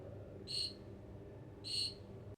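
A Raspberry Pi buzzer imitating a cricket's chirp, built to chirp with room temperature, sounds two short, bright trilling bursts about a second apart, fairly faint over a quiet low room hum.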